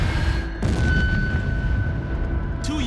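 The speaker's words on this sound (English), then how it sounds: "low fuel tank pressure causes the Vanguard to fall back on the launch pad and explode" A Vanguard rocket drops back onto its launch pad and explodes, a loud sustained roaring boom with a sharp rise in level partway through and rumbling that continues to the end.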